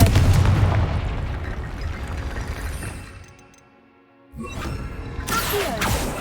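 A Confringo fire spell bursts with a loud explosive blast in Hogwarts Legacy, its heavy rumble tailing off into a brief lull before more crackling impacts and whooshing magic follow.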